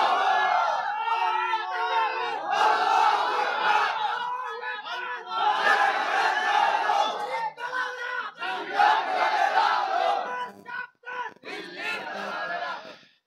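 A large crowd at a religious gathering in Kushtia shouts the takbir together, giving loud, rhythmic bursts of massed voices with short pauses between the calls.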